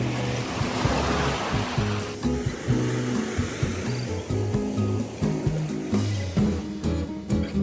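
Calm sea waves wash in a loud, continuous rush on a beach in front of a resort in Nakhon Si Thammarat, Thailand, with rhythmic low murmuring sounds layered underneath.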